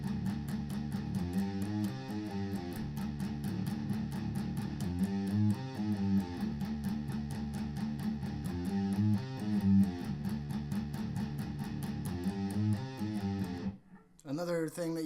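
A distorted electric guitar chugs through a metal-style riff with tight, choppy palm-muted strokes in a fast steady rhythm, stopping abruptly near the end.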